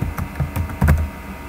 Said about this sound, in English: we can start typing, and we want to type best value